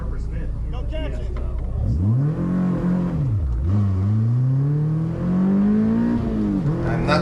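A Honda S2000 CR built for CSP class, driven hard on an autocross run with a passenger aboard. Close, loud engine revs climb and fall repeatedly through the slalom, with voices faintly underneath.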